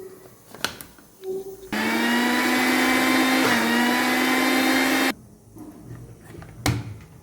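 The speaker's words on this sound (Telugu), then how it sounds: "వేసేసుకొని గ్రైండర్ చేసుకుందాం." A mixer grinder jar churns curd and cream into butter, a loud steady motor whine running for about three and a half seconds and then stopping abruptly, with small knocks and handling sounds before and after.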